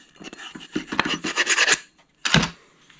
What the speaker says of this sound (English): Once you got that off, you could just take a little sandpaper, smooth that out a bit.